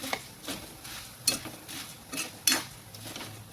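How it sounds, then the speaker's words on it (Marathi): Puffed rice is stirred and roasted in a pan for bhel, with soft, repeated scraping strokes at a gentle, uneven rhythm over quiet background. "आपल्याला हलक्या हलक्या हाताने असे थोडेसे भाजून घ्यायचे"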